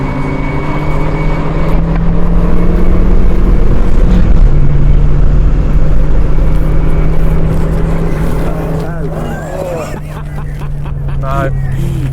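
A boosted classic car launches off the line at a drag strip, its engine a loud, close, steady drone that bogs rather than climbs, with people talking over it.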